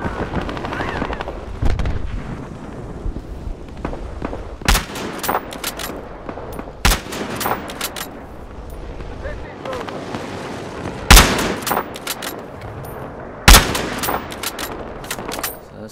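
World War I era weapons firing in Battlefield Hardline Conquest mode: scattered sharp gunshots and bursts, some loud and close, over continuous background battle noise and rumble.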